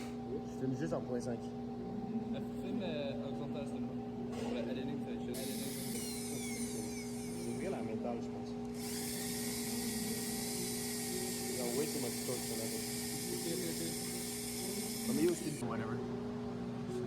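A power drill whirs in two steady, high-pitched bursts over a constant background hum, with faint voices and handling noises in between.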